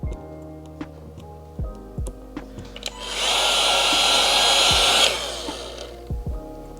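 A heat gun blows steadily for about two seconds, a loud airy whoosh, while heating a vinyl side marker overlay on a VW MK8 Golf, with light handling clicks before and after.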